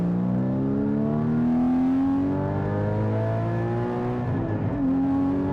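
A Porsche 981 Cayman GT4 engine pulls hard in second gear, its loud, steady note rising continuously before a brief dip around a shift or lift, then climbing again, close and unbroken with no talking.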